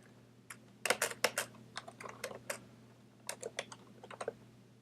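Keys clatter on a computer keyboard in irregular bursts of quick taps, close and fairly quiet over a low electrical hum, with no talking.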